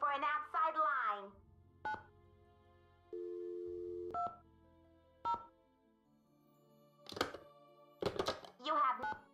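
Telephone keypad tones sound in the Nancy Drew video game, several short electronic beeps and one longer steady tone, spaced apart between stretches of recorded voice prompts.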